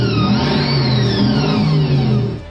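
Revving engine of a rusted-out 1976 XB Ford Falcon coupe, loud and close, a steady mid-pitched roar with a rising and falling whine that holds through the whole stretch with no talk over it.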